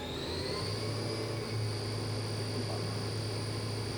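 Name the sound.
Hurco vertical machining center spindle running at 5,000 RPM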